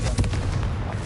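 Blasting spell cast in a Harry Potter video game, a loud booming burst with a heavy low-frequency rumble that rolls and fades over about a second, alone with no talk.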